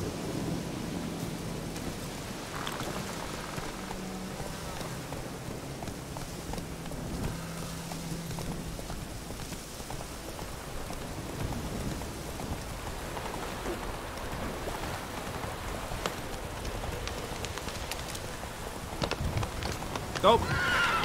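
Horseback riding through rain in The Witcher 3 game, with steady rain hiss and low rumbling throughout, faint hoof and movement sounds, and a brief louder rise at the end.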